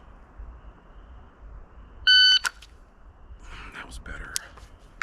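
A single sharp electronic shot timer beep, loud and close, followed by a quick burst of activity from a Staccato CS pistol and faint background noise.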